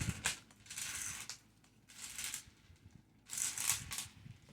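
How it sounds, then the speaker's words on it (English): Wire cutters trim jewelry wire while beaded earrings are made, giving faint, close bursts of small snipping clicks separated by quiet pauses. "Just trim that right off and lay that wire down"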